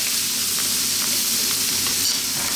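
Chickpeas frying with cumin powder in a pan for a Middle Eastern vegan dish, a dense, loud, unbroken sizzle with faint stirring clatter underneath, no one speaking.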